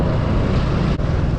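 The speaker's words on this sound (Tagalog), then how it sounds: "Ang lakas ng hangin." Strong wind buffets the microphone while riding a Honda Super Cub street bike, a steady loud roaring rumble with one brief dip near the middle.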